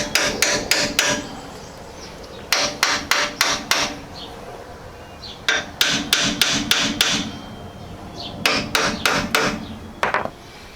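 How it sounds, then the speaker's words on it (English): A hammer taps a ball joint cup into a Jeep XJ front end, in bursts of four to six quick, sharp metallic strikes separated by short pauses, close and loud with no talking. "Give it a little tap."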